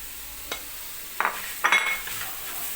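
Zucchini, potato and flour roast in a pot, heard as a faint background hiss broken by a few close scrapes and clinks of stirring.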